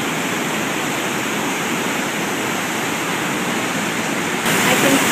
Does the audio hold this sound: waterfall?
yes